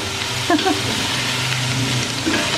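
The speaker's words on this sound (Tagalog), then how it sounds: "gigisa ko lang itong karne" Meat sautés in a hot pan with carrots, giving off a steady, close hiss and sizzle, with a few clinks from stirring near the start and again near the end.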